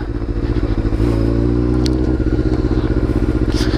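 A Honda CBR600F4i or Ducati 1198S sportbike rides along at steady speed on the road to Pahrump, its loud engine throbbing close up with a rapid pulsing rhythm under wind rush.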